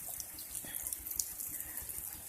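Water is poured onto porang plants on dry ground, a soft steady splashing and trickle, faint and close, with no talking.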